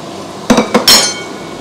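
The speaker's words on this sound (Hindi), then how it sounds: "अब ये जो चिकन है ये इसके अंदर मैं सारा डाल दूंगी।" Chicken pieces tipped into a cooking pot: a quick clatter of a few knocks and a scrape against the metal, loud and close, followed by a short fading rustle, with no voice.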